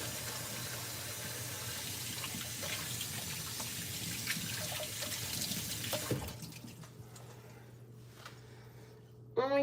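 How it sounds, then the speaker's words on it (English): Water runs from a kitchen tap during handwashing, a steady splashing rush that stops partway through, leaving a quieter room with faint dripping and handling sounds. "I'm going to wash my hands again."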